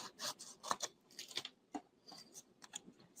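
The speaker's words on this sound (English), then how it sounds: "So I'm going to trim it from this side just with my scissors." Scissors snipping and trimming paper in a paper-crafting setup, a run of quick, close, crisp cuts in irregular bursts with brief pauses between them.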